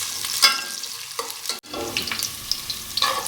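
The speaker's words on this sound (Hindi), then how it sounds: "ब्राउन होने तक इसको लाल करें। ये प्याज आ रहा है" Onions frying in oil until brown for Punjabi mutton pulao, a soft steady sizzle with light stirring clinks and scrapes, close up and without speech.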